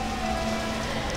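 Steady rain falls outside in a continuous, even hiss, with a faint low hum underneath and no talking.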